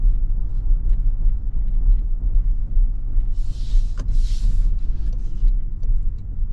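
Inside a 2026 Toyota Tacoma TRD Off-Road Premium, tires roll on the road with a loud, constant low rumble and drone. A couple of short hissy swishes pass midway, and no one speaks.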